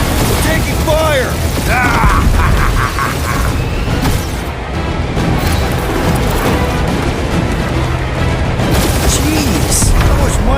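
Enemy gunfire in the video game Marvel's Guardians of the Galaxy, a dense, loud stream of shots and impacts mixed with mechanical clatter, booms and sci-fi effects, with voices speaking over the combat throughout.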